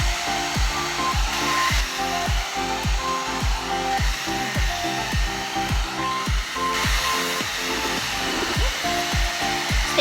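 A one-step hair dryer and styler blows steadily and loudly with a continuous airy whirr and a faintly pulsing motor hum, close by, as it is run through a layer of hair.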